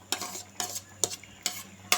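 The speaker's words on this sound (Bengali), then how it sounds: "দেখেন ডালগুলো আমি দিয়ে দিলাম" Pressure-cooked mung lentils go into a cooking pot and are worked with a utensil, giving five evenly spaced scraping, stirring strokes. The sound is close and fairly quiet, with no talking.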